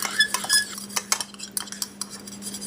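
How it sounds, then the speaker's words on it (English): Bullseye barbecue sauce and Tapatio hot sauce being stirred together in a bowl with a utensil, giving repeated irregular clinks and scrapes against the bowl, close up with no talking. "take some bullseye and some tapatio and mix it together in a bowl"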